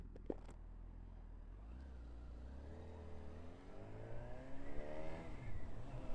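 A Honda CB1000 Hornet road motorcycle engine revs up through rising, harmonic-rich engine tones that climb and grow louder toward the end, heard alone without speech.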